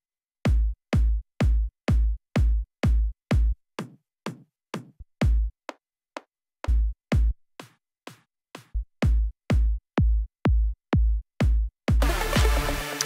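A self-made synthesized EDM kick drum built in Cubase hits in a steady four-on-the-floor pulse of punchy, booming thumps, with a short gap midway, before a dense burst of full mix takes over at the end.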